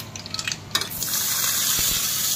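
Mustard seeds and curry leaves are tempered in a hot pan for a semolina appe breakfast batter: a few light crackles and taps, then a steady, loud sizzling hiss that carries on to the end.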